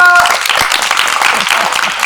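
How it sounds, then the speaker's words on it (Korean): An audience at a Korean fighting-show introduction claps loudly and continuously for about two seconds, with a voice briefly over the start. "박수 한번 주세요!"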